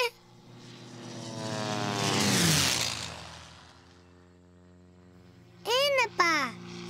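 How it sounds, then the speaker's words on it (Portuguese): A propeller airplane drones overhead, swelling louder then fading away, followed by a child's brief high-pitched voice near the end. "Pai, viste o avião?"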